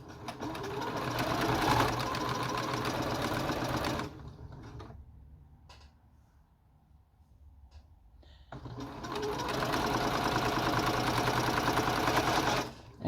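A sewing machine stitches a quarter-inch seam on a wide fabric headband, running steadily for about four seconds, pausing into near silence, then starting up again and running loud and continuous to the end.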